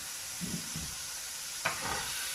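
Chicken with shrimp and small vegetables sizzles quietly in a pan under a steady frying hiss, with a few soft stirring scrapes and one sharper clack of a utensil.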